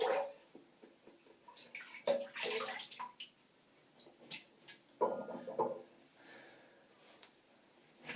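Water splashing and dripping as a synthetic shaving brush is wetted under a tap, in quiet intermittent bursts of trickling and sloshing with pauses between.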